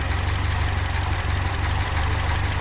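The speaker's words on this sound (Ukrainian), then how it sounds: "Ну оце так 2-3 рази і мотор заводиться без проблем." A motor idles steadily right after starting, a low continuous rumble at even level, fairly quiet and alone with no voices.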